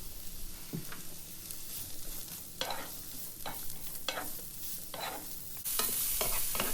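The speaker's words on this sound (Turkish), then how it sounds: "2 yemek kaşığı kadar susam yağı veya normal yağ da ekleyerek sebzeleri fazla öldürmeden birkaç dakika soteleyelim." Vegetables sauté in sesame oil for a Korean chicken noodle soup, a soft background sizzle broken by repeated scraping stir strokes at an uneven rhythm, close by, no talking.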